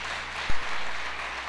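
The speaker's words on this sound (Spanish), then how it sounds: "Dale un aplauso a Dios si quiere, déselo, claro." A dull thump, then a steady wash of applause from a crowd, sustained without voices.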